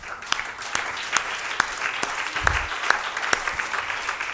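A church congregation claps in response to a pastor's sermon, with sparse, uneven handclaps scattered over a low murmur of voices.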